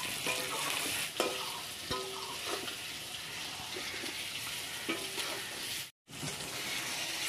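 Spiced chicken being sautéed with whole garam masala, chopped onion and chili in a home kitchen, a continuous close sizzle broken by scraping stirs and clinks of a spoon against the pan, with one brief dropout near the end.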